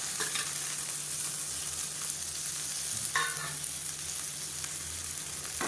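Drumstick leaves sauté in a hot pan with a continuous soft sizzle, broken by a few scraping stirs of a spoon.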